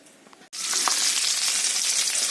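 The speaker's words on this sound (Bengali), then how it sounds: "মাছের মাথাগুলো ভেজে নেব।" Fish heads rubbed with salt and turmeric drop into hot oil in a wok and burst into a loud, continuous sizzle after a brief quiet start.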